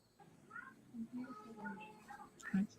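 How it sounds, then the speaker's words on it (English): A small kitten gives several soft, high meows in quick succession, close by and fairly quiet, while someone talks to it gently. "We've got a kitten."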